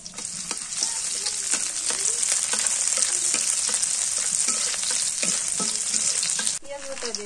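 Chopped onion frying in hot oil, a loud continuous sizzle with light tapping and stirring noises throughout, briefly dropping near the end.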